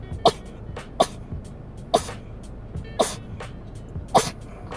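A girl sneezes repeatedly during a Twitch livestream: five sharp, loud bursts spaced about a second apart, each a sudden explosive puff of breath and voice over a quiet indoor background.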